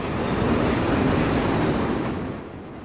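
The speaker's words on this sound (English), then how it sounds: "this freight train is pulling tank cars." A freight train pulling boxcars and cylinder-shaped tank cars rolls past close by, a loud steady rumble and clatter of wheels on rails that eases slightly toward the end, with no voices.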